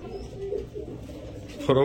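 Pigeons for sale at a pigeon market, low soft cooing from nearby birds in the background while someone speaks over them.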